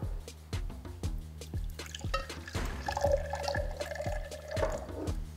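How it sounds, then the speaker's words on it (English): Water is poured into a drinking glass for a DIY lava lamp, a close trickle and pour in the middle of the clip over repeated dripping taps. "you're going to put the water into the glasses,"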